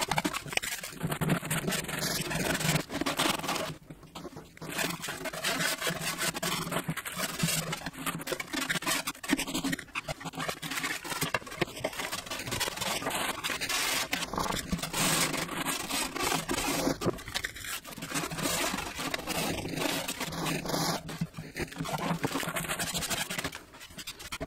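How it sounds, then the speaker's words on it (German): Thick plastic from a car's washer fluid reservoir is sanded by hand with 240-grit paper, giving close, continuous scratchy rubbing strokes with brief pauses and small clicks. "ich verwende hier 240er Papier. Das Kunststoff ist relativ dick. Und werde das erstmal schleifen."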